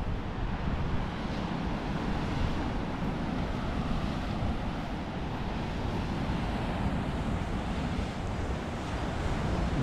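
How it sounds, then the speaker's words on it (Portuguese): Rough sea waves break at Praia das Pedras Brancas e Negras, a beach of black and white rocks in Barra Velha, Santa Catarina, a continuous loud roar of surf mixed with wind buffeting the microphone, steady for ten seconds with no voices. "Aqui também o mar é um pouquinho agitado."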